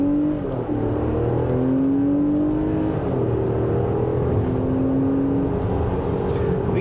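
A 2022 Infiniti QX60 Autograph accelerates hard in sports mode, its engine note climbing steadily in pitch through several gear changes, loud and close for the whole stretch with no talking.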